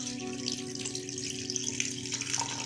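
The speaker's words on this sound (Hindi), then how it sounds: "अब हम इसमें 2 कप पानी ऐड करके इसको प्रेशर लगा देंगे" Two cups of water are poured into a cooking pot of spiced beans and mutton, giving a steady continuous splashing rush at moderate loudness, with no speech.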